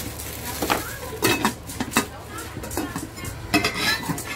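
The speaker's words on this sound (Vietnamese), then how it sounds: "Rồi cái nồi hai tay nè." Clanks and taps from handling a Japanese stainless steel two-handled pot, a run of close metallic knocks and scrapes at an irregular pace.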